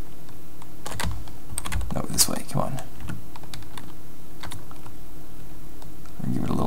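Rapid clattering keystrokes on a computer keyboard during a Kerbal Space Program rescue mission, irregular clicks and bursts of typing close to the microphone while someone talks over them.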